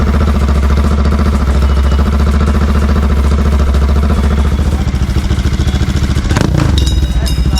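A Yamaha MT15 motorcycle runs with its exhaust silencer cap removed, giving a loud, close, rapid thumping exhaust beat that stays steady throughout, with a short clattering burst near the end.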